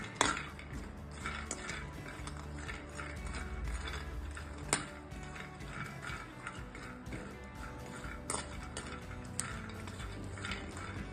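Pumpkin seeds being dry-roasted in a pan, heard as a continuous close rattle and scrape of seeds against metal, with sharp spoon knocks at irregular intervals across several seconds.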